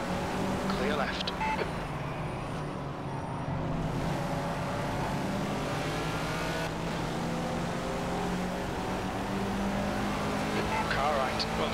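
Racing engines of BMW M1 cars in the Project Cars video game drone and shift steadily through a long stretch, several cars close together, while a voice talks over the engine noise.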